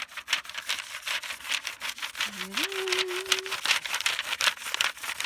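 Hand rubbing against oak tree bark outdoors, a steady dry scraping texture that continues through the whole stretch, with a faint voice-like tone rising briefly partway through.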